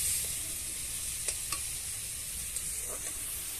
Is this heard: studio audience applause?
no